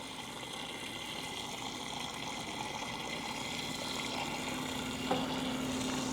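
Tap water runs steadily into a container for a laboratory water bath, a constant close hiss with a brief clink near the end.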